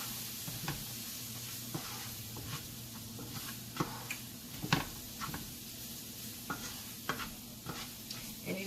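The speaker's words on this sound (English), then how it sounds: "just sprinkle it right over those onions. And then just mix it around like this" Flour stirred into onions frying in a pan for Salisbury steak: a soft continuous sizzle with rhythmic scraping and ticking strokes of the utensil, close up and with no talking.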